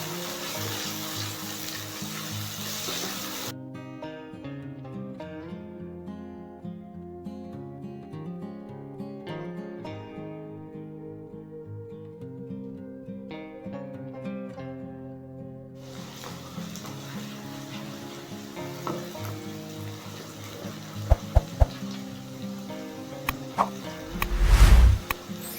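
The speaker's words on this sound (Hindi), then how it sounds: "प्याज़ों को हल्का सा लाइट ब्राउन कर लूँगी।" Onions frying in a pan until light brown for aloo qeema, a steady sizzle that quiets in the middle and then returns loudly, with a few clattering knocks of utensils near the end.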